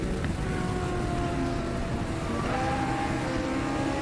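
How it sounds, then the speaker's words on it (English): A race car in a Cup 200 championship race at Donington Park GP, climbing from McLeans toward Coppice: a steady, loud engine drone held throughout with a slight pitch shift partway. "So here is Yarrow then turning his way out of McLean's up towards Coppice"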